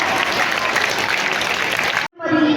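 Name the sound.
audience applause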